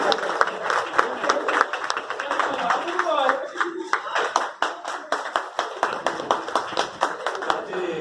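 An audience claps at an honoring ceremony. The claps are steady, crisp and fairly close, with a few voices speaking beneath them.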